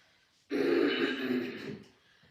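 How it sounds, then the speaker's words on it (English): One rough, drawn-out cough rasps close by, lasting over a second before fading into quiet. "Sorry about the awful cough when I get here today."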